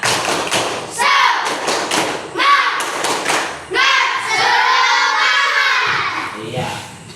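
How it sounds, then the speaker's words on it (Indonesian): A class claps the Indonesian "tepuk semangat" rhythm in a quick pattern while children's voices shout and chant along, loud and close, in several bursts. "Tepuk semangat saja. Sama-sama kita. Tepuk semangat."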